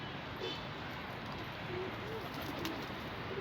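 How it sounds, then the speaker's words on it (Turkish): Soft, low bird cooing repeats a few times in the distance over steady outdoor background noise. "Bu kuş kıymetli bir kuş"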